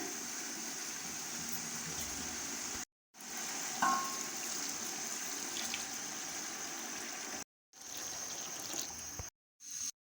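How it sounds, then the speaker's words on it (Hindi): Chickpea stock pours into a cooking pot for chana pulao, a steady liquid rush with faint sizzle running through most of the stretch, broken by a few brief silent gaps. "अब हम इसमें चनों की यखनी शामिल करते हैं।"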